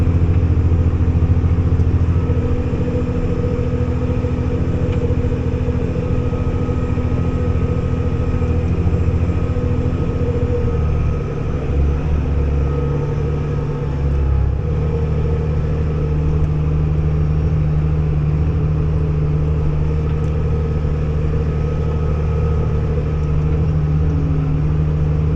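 A New Holland TG285 tractor pulls an International 700 plow through an organic flax field, its engine droning steadily and loud at close range for the whole stretch, with a slight dip in load midway and no talking.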